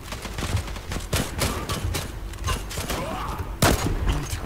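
Rapid bursts of gunfire in the Zula online shooter game, several loud overlapping shots and volleys spread across the clip with a sharp, heavy blast near the end.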